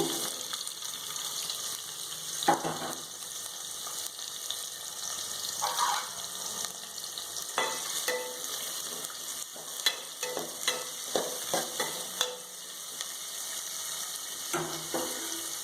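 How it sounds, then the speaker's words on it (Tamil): Onions sizzle steadily in hot oil in a pan, with occasional scrapes and clinks of stirring, and no voices. "வெங்காயம் எண்ணெயில் ஒரு 2 மினிட்ஸ் வேகட்டும்."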